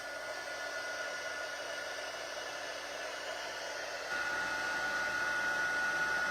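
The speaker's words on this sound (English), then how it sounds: "So I will be using the heat tool on the other card as well." A heat tool used for embossing powder on a stamped card, with a steady hair-dryer-like blowing hiss that rises in pitch and loudness partway through, heard alone.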